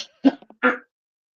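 Someone sick with a cold coughs and clears their throat indoors: two short, rough bursts with a brief catch between them, close and fairly loud, then silence.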